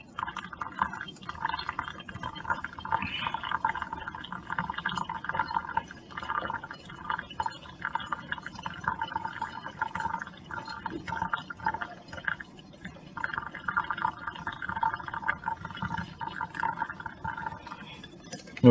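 A thin stream of water pours steadily from a pot into a cup, a soft continuous trickle with faint gurgling, fairly quiet and close.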